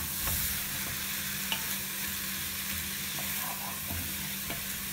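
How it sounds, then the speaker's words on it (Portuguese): Garlic, onion and small sliced bell pepper rings sauté in a pan for braised beef with potatoes, giving a quiet, steady sizzle with faint stirring taps, close and without speech. "Já vou colocar também o meu pimentãozinho, que eu tenho um pimentão pequeno cortado em rodelinhas."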